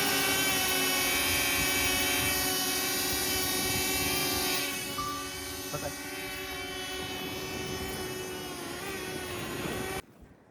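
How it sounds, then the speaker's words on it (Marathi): A drone's rotors whine in a steady, high buzzing hum nearby as it descends to land, the tone shifting slightly midway before cutting off abruptly at the end. "मला ड्रोन खाली येताना दिसतोय"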